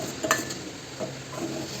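Atta flour halwa frying in ghee, stirred with a spoon: a quiet continuous sizzle with a few soft scrapes and clinks of the utensil against the pan, close and faint.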